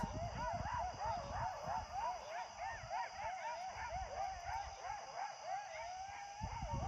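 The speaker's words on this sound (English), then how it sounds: "Do you hear those coyotes?" A pack of coyotes yips and howls close by at night near a lake, rapid warbling repeated cries running continuously over low rumbling noise, with a few knocks at the end.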